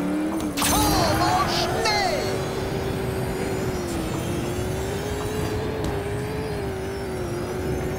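A monster truck in the Blaze and the Monster Machines game roars through a turbo boost. A sustained engine drone rises slightly and holds steady, with whooshes and game effects early on, loud and close, and background voice chatter.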